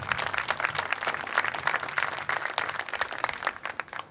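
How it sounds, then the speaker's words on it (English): An audience at an NJROTC change of command ceremony applauds the seniors steadily, a dense wash of many hands clapping at moderate volume, continuing without pause throughout. "Nice round of applause for our seniors."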